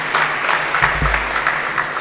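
Audience applause for honoured guests at a Gujarati talk on social service in business, steady dense clapping across the whole stretch with a brief low thump partway through.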